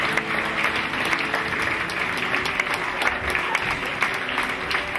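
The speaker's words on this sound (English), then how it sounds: "Give them a round of applause" Sustained applause from an awards ceremony audience at the BAFTA Cymru Games & Interactive Experience Awards, greeting the winning team; dense, steady clapping holds at an even level throughout.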